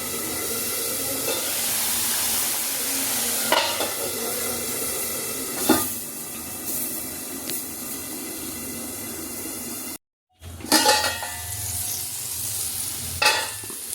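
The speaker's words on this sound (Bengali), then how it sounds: "সর্ষে দিয়ে তো বেশি ফোটানো যায় না, একটু ঢেকে দেবো, তাহলে ঝাঁসটা থেকে যাবে।" Amudi and pomfret fish simmer in mustard sauce in a pan, giving a steady close sizzle and bubbling hiss with a few clinks of stirring and a short silent break near the end.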